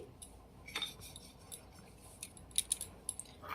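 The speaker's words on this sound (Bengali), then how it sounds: "এবারে এই একই পাত্রে বা এই হামানদিস্তায় আমি এই কুচিয়ে নেওয়া বা গ্রেট করে নেওয়া আদা দিয়ে দিচ্ছি" Grated ginger dropped into a metal mortar for a homemade cough syrup, marked by a few light, scattered clinks and taps of a spoon against the vessel over a quiet background.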